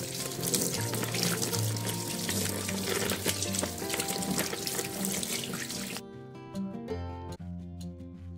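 Tap water runs steadily into a sink while clothes are washed by hand, a loud continuous splash with sloshing, then the flow stops and clinks and light handling follow.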